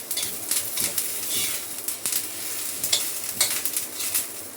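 Sesame seeds and coriander leaves crackle and sizzle in hot oil, with dense irregular popping bursts over a steady frying hiss throughout, fairly close and loud, with no talking.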